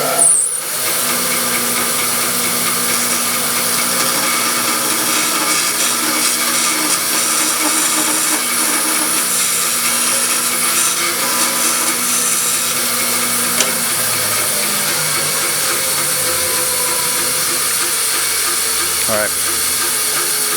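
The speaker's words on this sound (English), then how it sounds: "the bandsaw is perfect. So we'll turn this back on" A band saw runs steadily, cutting waste from dovetails in wood, a loud continuous whine with broad hiss throughout and slight shifts in pitch as the blade works through the stock; speech is faint or absent.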